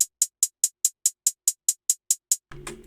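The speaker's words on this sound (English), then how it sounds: "Next, we have the hi-hats, and they sound like this." Crisp hi-hats from a beat, about a dozen evenly spaced bright ticks in a steady pulse, played alone before another sound briefly begins.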